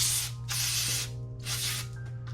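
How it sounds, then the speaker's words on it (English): Brake cleaner sprayed onto a bolt from a Saab 9-3 valve cover repair, three close hissing blasts with brief gaps between them over a low background hum. "Little brake clean."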